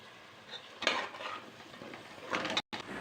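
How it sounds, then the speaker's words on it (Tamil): Quiet scraping and clinking of a spatula stirring chopped beans, carrots and peas in a pan for vegetable biryani, with a faint sizzle underneath, a few irregular strokes close by. "நறுக்கி வச்சுருக்கிற பீன்ஸு, கேரட்டு, பட்டாணி எல்லாத்தையும் நல்லா போட்டு வதக்கிட்டு"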